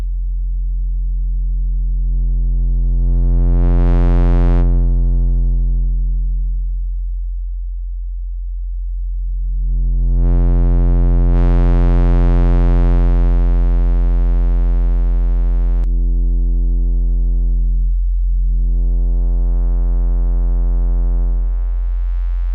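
A heavy synth sub bass with tube distortion holds long sustained tones, swelling and thinning as the distortion is tweaked, with brief gaps between notes and no talking.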